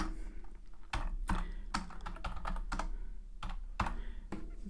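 Someone types a MySQL command on a computer keyboard, producing brisk, irregular clusters of close key clicks with a few heavier strokes, like a spacebar or enter press, and no talking.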